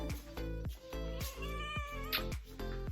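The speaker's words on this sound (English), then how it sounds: "So, Mia, I can't with this cat." A house cat meows loudly and repeatedly up close, its drawn-out, wailing calls coming one after another with brief gaps.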